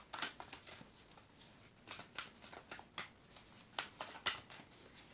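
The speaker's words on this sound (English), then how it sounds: "I'm going to get a quick animal card" Animal spirit oracle cards are shuffled by hand in a quiet room, making repeated soft riffling snaps in an uneven rhythm, close and faint.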